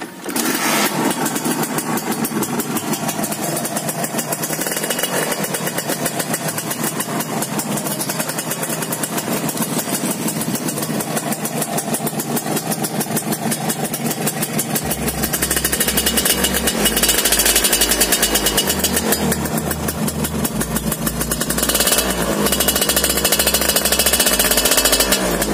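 A 2005 Suzuki Satria Hiu motorcycle engine starts and then runs steadily for the whole stretch, its buzzing, rattly note loud and close with no talking.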